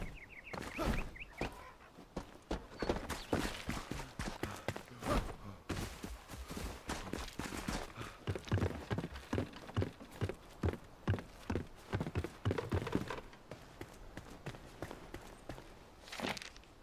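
Footsteps of a character walking in Enshrouded, a steady rhythm of crisp, close clip-clop steps running the whole time, with no voice over them.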